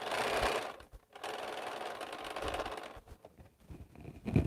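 A Bernina sewing machine stitches quilt blocks, its fast whirring motor running in long close bursts with brief pauses between them, and no talk over it.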